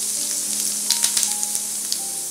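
Cumin seeds dropped into hot oil for paneer bhurji, a dense steady sizzle with small crackling pops scattered through, close and fairly loud.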